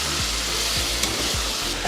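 Bumbu spice paste sizzles and fries loudly in a pan, a steady close hiss with stirring scrapes throughout; no talking.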